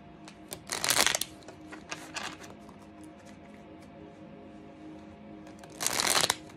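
Awakened Dreamer oracle cards being shuffled in two close, brisk riffling bursts, one early and one near the end, with light taps and rustles between them and no talk.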